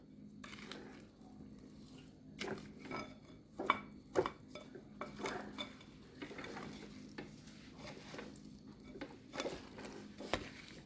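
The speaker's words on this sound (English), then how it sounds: "you want to use your spatula to scrape the side of your container" Spatula scraping the side of a mixing container while butter and sugar cream for a Jamaican Christmas fruit cake, giving repeated soft scrapes and light knocks at a steady, close, unhurried pace.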